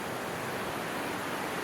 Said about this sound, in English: I knew there was water down here because I could hear it